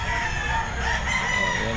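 A rooster crows at an open pet market, a sustained harmonic call standing out over a steady, busy crowd hum.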